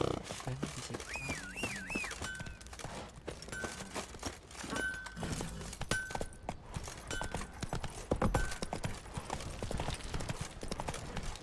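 Roach the horse from The Witcher 3: Wild Hunt, hooves clip-clopping at a steady walking-to-trotting pace, moderately near, over ambient game background with brief voice snippets.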